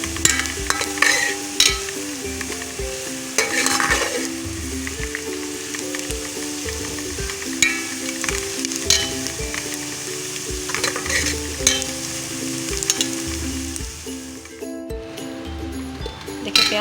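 Onions frying in a pot for beef yakhni pulao, a steady hiss of sizzling oil with frequent scraping and clinking of a spoon stirring against the pot, close and continuous.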